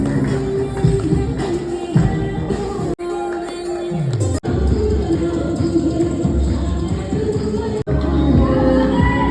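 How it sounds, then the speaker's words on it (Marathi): A large crowd cheers and celebrates India's cricket win with loud, continuous shouting and roaring, including some high children's voices and a few brief dropouts, all close and energetic. "भारत जिंकला आणि नुसता जल्लोष झाला आहे"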